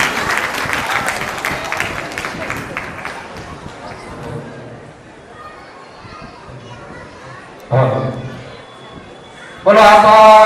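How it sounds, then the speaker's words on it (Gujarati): Crowd applause at a community gathering in Vasavad welcoming a guest speaker: a loud burst of clapping that fades into murmuring chatter and children's voices, then returns in short loud bursts near the end. "જોરદાર તાળીઓથી આપણે જગદીશભાઈ સોલંકીને વધાવીએ"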